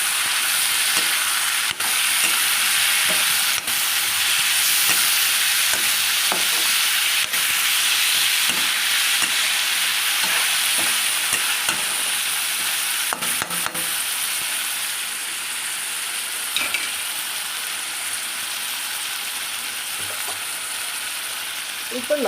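Chopped tomatoes fry with browned onions in a pan for a pepper and coriander-leaf country chicken gravy, giving a loud, continuous hissing sizzle with occasional clinks and scrapes of stirring.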